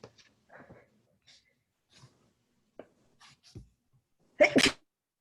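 A loud, close sneeze bursts out after a stretch of quiet, with faint scattered movement and breaths before it.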